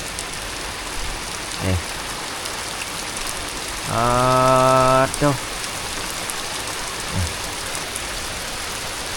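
Heavy rain pours down in a dense, steady hiss across the whole stretch, and a voice speaks briefly over it midway.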